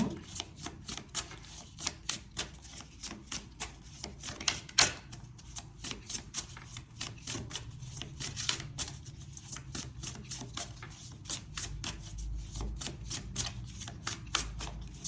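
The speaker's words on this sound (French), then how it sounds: "Alors on va prendre une carte de conclusion." Tarot cards are shuffled by hand before a conclusion card is drawn, giving a long run of quick, close, crisp riffling taps in an irregular rhythm with no talk.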